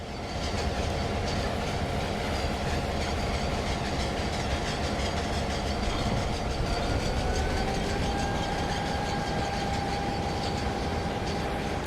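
A T Class diesel locomotive drives in Trainz 2022, with a loud steady engine drone, rail rumble and faint clickety-clack that runs unbroken throughout, plus a rising tonal whine near the end.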